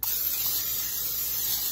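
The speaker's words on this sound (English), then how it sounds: "So we're gonna spray this with some just oil." Olive oil sprayed from a can onto a Christmas baking dish, a single steady hiss lasting under two seconds, close and fairly loud.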